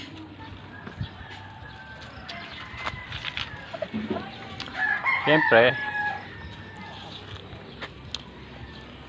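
Chickens cluck and a rooster crows nearby, with occasional scattered calls and a person speaking briefly over the farmyard sounds.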